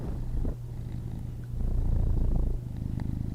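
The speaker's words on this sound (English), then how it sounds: "Sweet cat purrs." A cat purrs steadily up close, a low rhythmic rumble with breathy pulses that swells louder in the middle and continues alone without speech.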